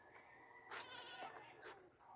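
Goats on a farm give a couple of short bleats at moderate distance, heard over faint outdoor background.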